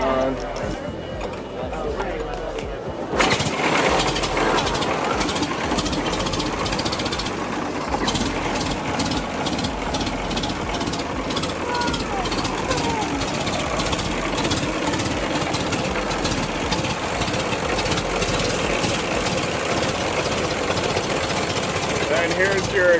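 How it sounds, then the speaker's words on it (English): A 114-year-old crank-start Packard car engine fires up and settles into a steady, rough idle close by, with people talking over it throughout. "That's how to start a 114-year-old car."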